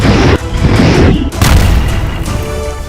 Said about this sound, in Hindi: खार्किव के रेलवे स्टेशन पर ऐसा मिसाइल हमला हुआ